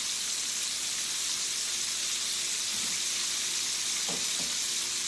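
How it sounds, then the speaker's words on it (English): Peas cook slowly on a stove in a home kitchen, giving a constant dense sizzle and bubbling hiss throughout, loud and close, with a couple of faint knocks and no speech. "my peas are over there cooking."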